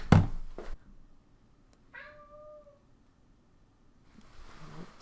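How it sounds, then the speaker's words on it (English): A cat outside a door gives a single clear meow in a quiet room, framed by a few dull knocks or thumps at the start and a soft rustle near the end. "Who the flip is knocking at my door? It's my cat, of course."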